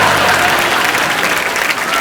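Loud, sustained applause from a TV comedy show studio audience welcoming a guest's entrance, dense clapping with crowd noise throughout and no speech on top.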